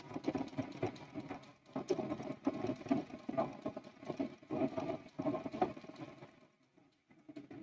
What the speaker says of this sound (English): I'm going to stitch right along that seam of the 4-patch.